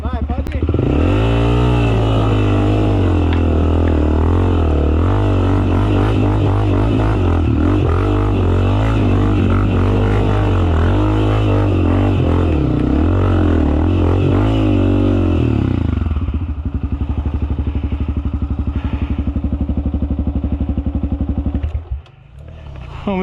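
Dirt bike climbing uphill on a forest trail in Paraná, its engine revving hard and loud up close for about fifteen seconds before easing off and fading, with people talking over and after the ride.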